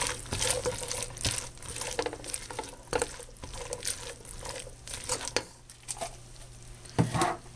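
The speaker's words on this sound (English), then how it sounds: "I put that in there and stir it around on it" Sour cream stirred into macaroni and cheese in a pot, a spoon scraping and clinking against the sides in irregular bursts at close range, with a steady low hum underneath and no talking.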